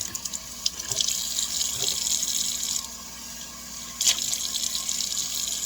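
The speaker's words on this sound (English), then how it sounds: "A quick run under the water." Kitchen tap water runs steadily over a Norwex cleaning cloth at a sink, a close hissing splash with brief bursts where the flow shifts, and no voices.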